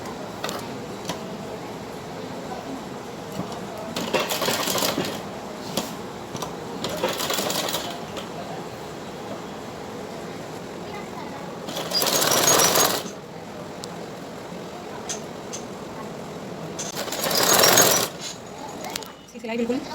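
A sewing machine stitches a blouse belt in several short rattling bursts separated by pauses, close and moderately loud over a quiet room hum.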